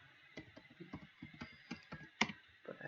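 Quiet typing on a computer keyboard while a SQL query is entered. Irregular soft key clicks come close together, with one sharper tap near the end.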